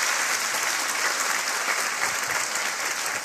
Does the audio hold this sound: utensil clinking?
no